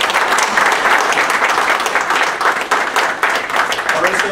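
Audience applause rings out steadily at a ceremony honoring a retiring officer, a dense wash of many hands clapping close by for several seconds without letup.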